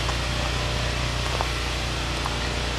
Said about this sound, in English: In the background, we do have the generator going.